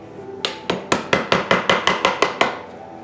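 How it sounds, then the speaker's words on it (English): A cheap Sears and Roebuck chisel carves a wooden feather for a fan bird. About nine sharp, evenly spaced strikes ring out close and loud, with no voices. "I'm using a Sears and Roebuck cheap chisel."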